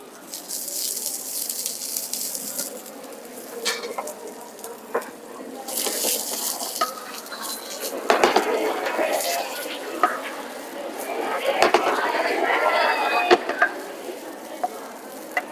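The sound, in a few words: sautéing onions in a pan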